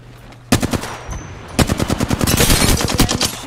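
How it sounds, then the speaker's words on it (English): Rapid automatic gunfire in a video game, a short burst followed by a longer sustained stream of fast, loud shots that rattle on close and dense. "Enemy over there. Firing."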